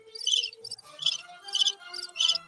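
Crickets chirp in steady repeated bursts, about four high trilling pulses in a row, close and clear with no talk.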